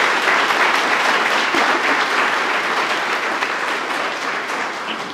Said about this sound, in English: So if everyone could give them a round of applause.